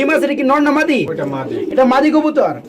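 Fantail pigeons coo close by at a pigeon farm. Low, throaty rolling coos sound loud and repeated, mixed in with someone talking over them.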